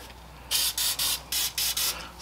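An aerosol spray can hisses in six short bursts while parts are sprayed during a Saab 9-3 front wheel bearing replacement, separated by brief pauses, close and fairly loud.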